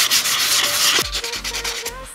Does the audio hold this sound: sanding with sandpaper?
yes